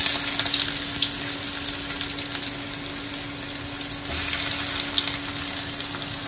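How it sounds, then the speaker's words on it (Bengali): Chopped onion frying in a pan on a stove, with a bright continuous sizzle and crackle, steady and close, with brief stirring scrapes and no talk. "এখন আমি দিয়ে দিচ্ছি পেঁয়াজ কুচি।"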